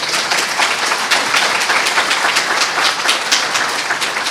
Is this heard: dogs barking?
no